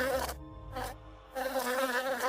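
A bee buzzing in a dramatized audio story, a steady close drone that briefly drops out twice before returning, with no voices.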